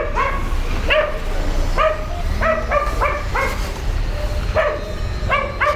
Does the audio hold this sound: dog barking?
yes